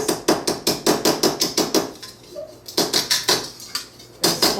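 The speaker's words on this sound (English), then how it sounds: "I take my hammer and I flatten it out a little bit more." Hammer striking metal on a hard surface to flatten blanks for feather earrings: a quick run of sharp, evenly spaced ringing blows, a short pause, then more strikes, close and clear with no talk.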